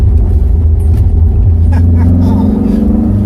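A loud, close engine of an Opel Ascona rally car on a snowy street, a steady low rumble with a rising tone toward the end.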